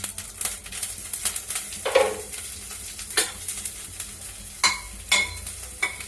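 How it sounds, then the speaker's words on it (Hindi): Cumin seeds and green chilies sizzle and crackle in hot oil in a home kitchen pan, a steady frying hiss broken by sharp pops and stirring clatter. "बस जीरा डाल लूंगी, और ये हरी मिर्ची"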